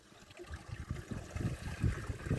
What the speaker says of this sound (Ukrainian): Тут багато підземних струмочків, які то виходять, то пропадають в горах